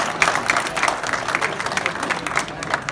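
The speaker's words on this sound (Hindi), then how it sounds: "जोरदार ताली बजाओ" An audience at a comedy show applauds, a crowd clapping and cheering in a busy burst with some voices mixed in.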